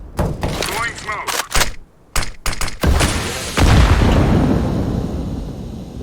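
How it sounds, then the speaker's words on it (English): A smoke grenade thrown in Counter-Strike: Global Offensive, starting with a few sharp cracks and clatters and then settling into a long, loud hissing rush of smoke, with game effects and voices over it. "Throwing smoke."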